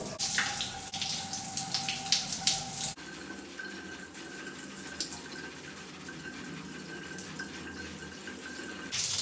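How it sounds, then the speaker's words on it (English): Shower water runs steadily in a bathroom, a continuous hiss of spray with a brief shift in tone partway through, close and fairly loud throughout with no talking. "This water is so cold."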